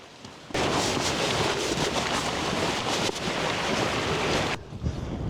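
Strong gusty wind buffeting a microphone outdoors at a camping spot, a loud sustained rushing roar that starts abruptly and drops away near the end, with no talk.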